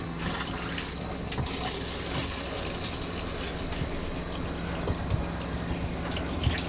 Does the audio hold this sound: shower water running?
yes